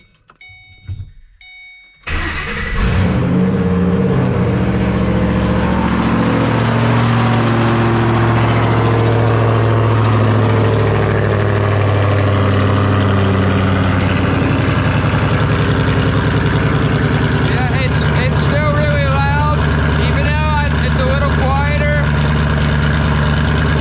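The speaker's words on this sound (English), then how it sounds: "So here, we're gonna get a cold start right now." A car engine with long-tube headers cold-starts after a brief crank, then settles into a loud, rumbling high idle with a raspy exhaust note, close up and continuous.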